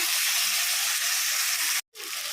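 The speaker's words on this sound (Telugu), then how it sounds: "ఇప్పుడు చికెన్ అయితే మంచిగా నూనెలో మంచిగా ఉడికిపోయింది" Chicken frying in oil for a tomato chicken curry, a loud, dense, continuous close sizzle that cuts out for a split second before resuming.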